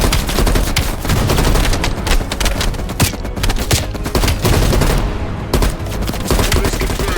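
Sustained machine gun fire in Call of Duty Black Ops Cold War, loud and close, with rapid bursts and a few sharp individual cracks running through the whole stretch without pause.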